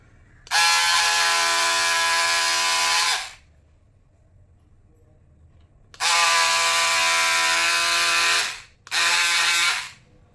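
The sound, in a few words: electric cutting machine cutting blouse fabric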